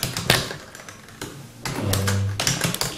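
Keystrokes on a keyboard connected through an Elite Dock, a few scattered clicks and taps close by, with a low hum and some background rustle.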